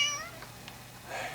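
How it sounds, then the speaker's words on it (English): A cat picked up by a Smmtine K15 security camera gives a short meow, then another faint, drawn-out one a moment later over a low background hum. "Cats."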